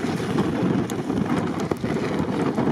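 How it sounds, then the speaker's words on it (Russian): Strong wind blows during an off-road snowstorm with SUVs driving through snow and sand, a steady rushing roar with buffeting gusts and a few faint clicks and knocks, no speech. "Ну дует нереально просто."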